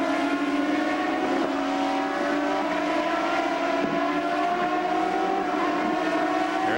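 CART IndyCar race cars roar down the 200-mph front straight at Elkhart Lake during a 1995 race, a loud, continuous high-pitched engine wail with overlapping cars passing in a steady line, no talk.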